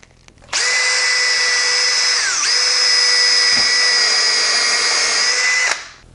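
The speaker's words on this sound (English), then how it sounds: "So I'm just going to drill in here." A power drill bores into laminate flooring samples at close range, a loud, steady high-pitched whine that starts sharply, dips briefly midway as the bit bites, then holds for about five seconds before winding down.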